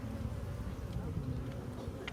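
Honeybees (Apis mellifera) make a steady, dense buzz of many insects close by that carries on without a break at low to moderate level.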